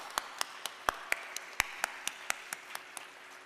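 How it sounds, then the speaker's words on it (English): Applause for the orchestra at a Bharatanatyam arangetram dance recital, heard as a sparse, steady run of about fifteen evenly spaced, crisp claps, fairly faint and somewhat distant, with no talking over them. "Let's have a big round of applause for our orchestra"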